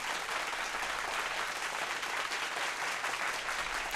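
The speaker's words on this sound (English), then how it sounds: "I'm just going to let this sound effect ring out" Canned applause from a radio call-in show, a steady wash of many hands clapping that holds evenly at full level from start to finish with no voices over it.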